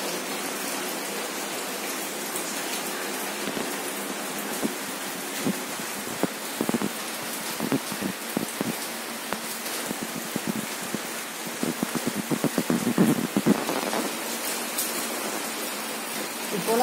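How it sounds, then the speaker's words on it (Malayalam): Heavy rain pours down steadily, a dense hiss of falling water with scattered sharper drop impacts crackling throughout. "ഇപ്പോൾ മഴയ്ക്ക് ഏകദേശം കട്ടികൂടിക്കൊണ്ടിരിക്കുന്നുണ്ട്. ഇപ്പോൾ നന്നായി പെയ്യാൻ തുടങ്ങിയിട്ടുണ്ട്."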